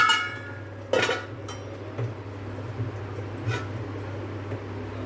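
A lid set onto a pot of fish and potato curry, a sharp metallic clink followed by lighter knocks and rattles over a low steady hum, with no voices.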